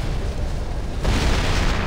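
An explosion in the Far Cry 3 video game gives a loud, broad rumbling blast that swells midway and keeps roaring steadily, with no voices over it.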